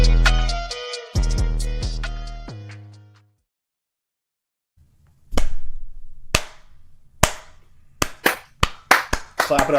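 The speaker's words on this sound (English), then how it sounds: "Clap it up for the boys." A handful of scattered, sharp hand claps ring out one by one after a pause, close and fairly loud, at a live comedy show. A tonal passage and brief silence come before the claps.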